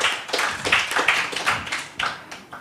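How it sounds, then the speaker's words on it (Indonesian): An audience at a Christian–Islam religious debate claps for the four participants. The applause is sparse and uneven, with individual claps distinct rather than a dense roar. "Tepuk tangan untuk mereka berempat."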